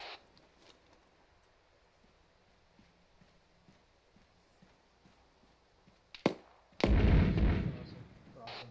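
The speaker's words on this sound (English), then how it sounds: "Sounds like the mortars are firing from downslope behind that thing." Mortar fire during a military field training exercise: after a long quiet stretch with a couple of faint distant thumps, one sharp report rings out, followed by a heavy, loud booming blast that rumbles and fades slowly.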